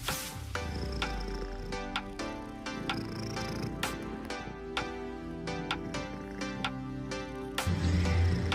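Domestic cat purring close up, a low rumbling drone beneath a busy layer of sharp clicks and taps, with a louder rumble swelling at the end.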